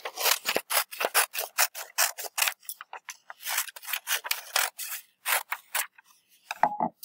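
Scissors cut paper in quick, rhythmic strokes, each snip crisp and close. The cutting runs in bursts with brief pauses, fading into softer handling sounds at the end.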